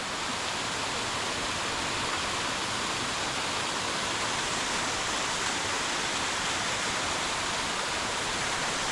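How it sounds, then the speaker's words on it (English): Twin waterfalls near the Hoosac Tunnel pour in a constant broadband rush, steady and fairly close, with no voices over the roar of falling water. "This is an area that I've always called twin waterfalls"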